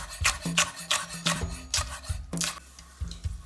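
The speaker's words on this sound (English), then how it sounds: "Now turn and cut across into thin slices." A knife slices chilies into thin strips on a cutting board, producing a quick series of crisp, close chopping taps in an irregular rhythm, with no talk.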